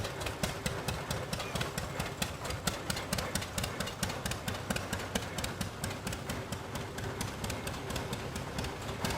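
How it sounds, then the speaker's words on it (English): A 1938 John Deere A tractor idles along in a small-town Kansas threshing bee parade, its steady low engine rumble mixed with rhythmic clanking beats and crowd ambience throughout. "Next up is a 1938 John Deere A, owned by Sean Delaney and driven by Sean of"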